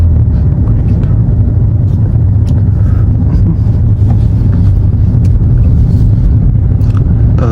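A 2016 Kia Rio sedan rolls downhill along a U-turn road in second gear, its low engine and road rumble steady and loud throughout, with wind buffeting the cabin and no talk.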